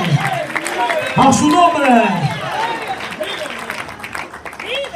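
Applause and clapping from a church congregation during a sermon, a broad burst of crowd clapping with cheering rising over a preacher's voice and continuing under his talk.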